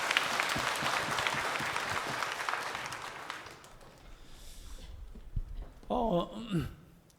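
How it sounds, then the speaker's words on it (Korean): A church congregation in Daegu claps during a Sunday worship service after a youth praise team sings, full applause for a few seconds that fades, followed by a brief voice speaking. "박수로 한번 하나님께 영광을."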